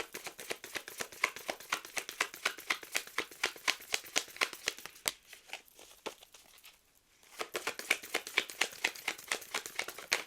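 Oracle cards being shuffled from a deck, a rapid series of crisp papery riffling clicks, close and steady, pausing briefly in the middle before resuming.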